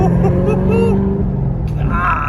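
A 650 hp Camaro ZL1 1LE with a Corsa exhaust rumbles low and steady at around 2,000 RPM while someone talks over it from inside the car.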